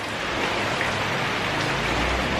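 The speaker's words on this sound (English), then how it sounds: "It's raining." Rain falling steadily outdoors, a dense even hiss of drops that stays at the same level throughout, heard alone with no voices.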